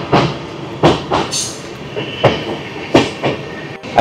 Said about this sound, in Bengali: আমাদের ট্রেন প্রবেশ করছে গুলমাখোলা স্টেশনে।